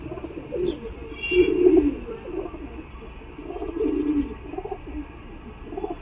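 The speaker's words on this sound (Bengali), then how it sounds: "আপনারা দেখতে পাচ্ছেন, খতেন ম্যাড্রাস পায়রা।" A Madras pigeon coos in low, warbling phrases, with two longer swelling calls and softer murmurs in between, heard close and steady over a quiet background hiss.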